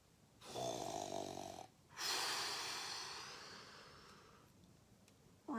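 A voice imitates a bear snoring during a bedtime story read aloud, with two long rumbling snores, each a drawn-out nasal inhale followed by a breathy exhale, close and fairly quiet.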